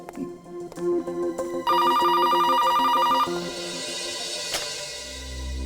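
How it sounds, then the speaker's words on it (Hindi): A telephone rings once in a loud, rapid trill lasting about a second and a half, with quieter background sounds before and after. "सालुनके साहब का फोन था"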